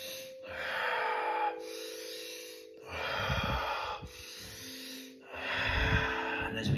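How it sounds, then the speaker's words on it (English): Deep, slow breaths drawn in and let out during a breathing exercise, three long airy pulls at an even pace, close and clear over a faint steady background tone. "Breathing in."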